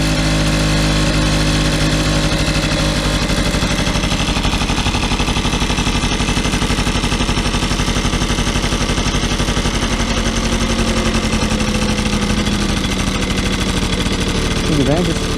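A cheap moped engine idles a little too high, a loud, close and steady mechanical drone that runs unbroken, with a voice talking over it.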